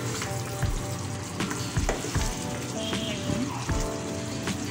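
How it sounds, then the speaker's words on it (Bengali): Chicken and potato curry sautéing in a pan, a steady crackling sizzle with intermittent scrapes and knocks of stirring, moderately close. "এখন আমি এটাকে আরও কিছুক্ষণ কষাই নেব"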